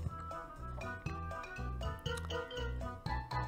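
Pig avatar in Angry Birds Friends giving a run of short, bright cartoon oinks and grunts in a quick bouncy rhythm, close and clear with light jingly chimes mixed in.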